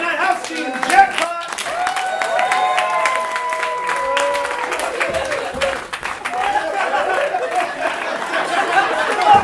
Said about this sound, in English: Can I get one more round of applause